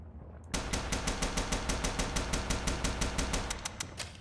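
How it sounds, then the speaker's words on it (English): Tommy gun firing in Bendy and the Ink Machine Chapter 3, a loud, steady, rapid burst of automatic shots close up that runs for about three seconds without a break, with no talk. "I got the Tommy gun!"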